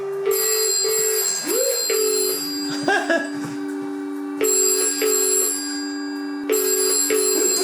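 A 1960s-style electromechanical telephone exchange bell rings in long bursts, pausing between rings, loud and close, with a brief mechanical rattle and clunk in the middle.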